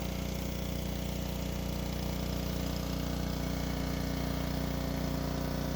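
A Simpson gas pressure washer engine runs steadily on a driveway, giving a constant, even drone with a droning hum that neither rises nor fades across the stretch.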